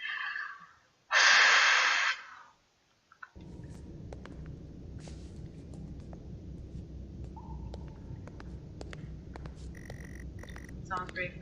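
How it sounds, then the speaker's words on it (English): Heavy breathing sounds close behind the listener in the horror game Stories Untold: a loud burst of breath stands out against a dark room, then a low, steady rumbling ambience follows with faint scattered clicks and tones. "Someone's breathing on your neck,"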